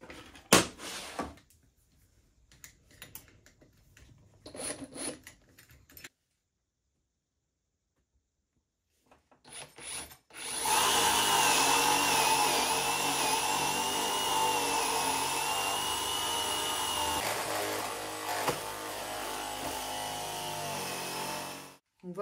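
A 20 mm flat spade bit bores into wood while a small cube lamp is being built. Scattered handling knocks and a pause come first, then the drill's loud, steady whine and grind runs continuously to the end.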